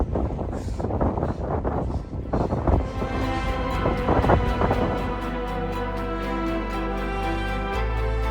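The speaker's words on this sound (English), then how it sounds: "Whoa, so much wind." Strong, gusty wind buffeting the microphone on a high mountain road above 4000 metres in China, loud roaring rumble that steadies into a continuous blast, with no talking.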